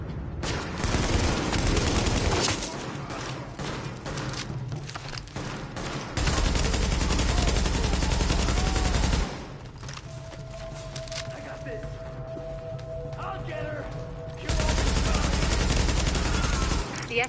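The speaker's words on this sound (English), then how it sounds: "The escort party's taking heavy fire from the roof." Heavy sustained automatic fire from a rooftop gunner in The Division 2 comes in long loud bursts separated by quieter stretches of combat noise, with talk heard during the lulls.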